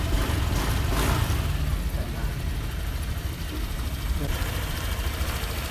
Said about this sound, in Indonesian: Cek suara mesin.